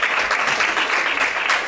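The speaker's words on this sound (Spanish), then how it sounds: "Un aplauso para Sonia también" A crowd applauding in a dense, steady burst of clapping that stays loud for the whole stretch.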